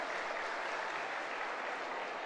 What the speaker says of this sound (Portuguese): E nesse momento, o aplauso, né, das jogadoras da equipe do Ceará.